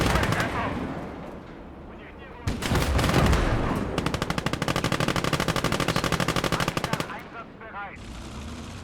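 Gunfire in the Gates of Hell World War II strategy game, German campaign, with a sudden loud burst and then long rapid machine-gun rattle, fading afterward while a player talks.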